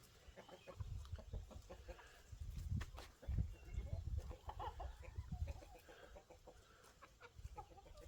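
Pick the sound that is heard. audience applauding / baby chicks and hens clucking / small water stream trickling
baby chicks and hens clucking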